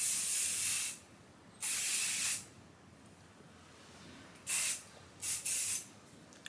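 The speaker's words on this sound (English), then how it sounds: "Let's use the spray that I was talking about." Hairspray hisses out in four separate bursts, two long and two short, with quiet pauses between them, sprayed onto curly hair held upside down.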